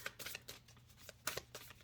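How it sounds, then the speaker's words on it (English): A thick mushroom-themed tarot deck is shuffled at close range, with quiet, irregular papery swishes and card slides and a few sharper flicks, and no speech. "they're almost so thick that the middle of them are sliding as I'm shuffling"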